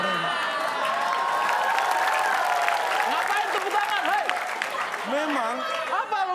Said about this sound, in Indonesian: Ngapain tepuk tangan?